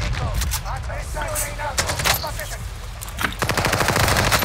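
Rapid video-game gunfire aimed at the player, with bursts of automatic shots that intensify into a dense, loud volley near the end, over steady background game noise and a faint voice.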